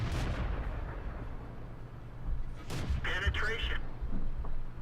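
In World of Tanks, a tank shell penetrates enemy armor with a deep booming impact and rumble, followed by a brief electronic game tone.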